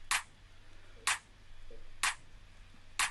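Two bright layered drum-machine claps struck together, repeating four times at an even one-per-second pulse, each a sharp crisp snap standing alone over a quiet low hum.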